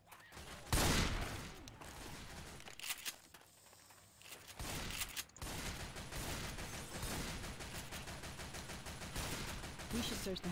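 Video game gunfire from Left 4 Dead 2 crackles in rapid bursts and sustained volleys with a quieter lull midway, while voices talk over the shooting.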